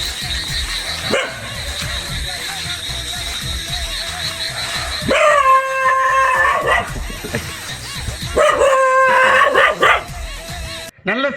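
Dogs barking loudly and close, with yips and whimpering mixed in, under ongoing talk and a steady background hum.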